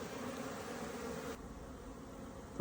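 Honey bees flying around their hives on a warm, sunny October day, a faint, steady, continuous buzzing hum without talking.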